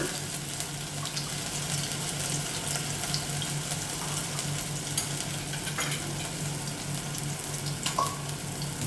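Ginger and green chili paste sizzles in hot oil in a kitchen pan, a steady low frying crackle with a few clinks of a utensil.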